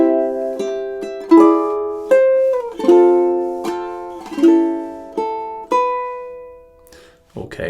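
A ukulele plays measures 3 and 4 of a Christmas tune, plucked notes and strummed chords ringing clearly with a lilting rhythm, close and alone.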